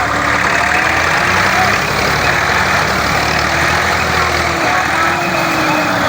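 A tractor engine running hard while pulling a stuck trailer, a loud, steady, rumbling drone with a thick low throb that holds constant throughout, close and dense, with no clear voices on top.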